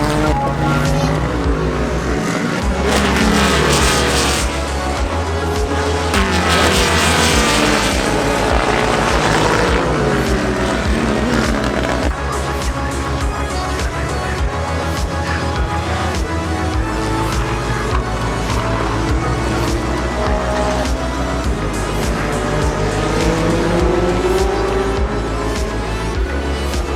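Race cars roaring past at Mid-Ohio, a loud, continuous engine drone that swells and fades as cars pass, with no talking.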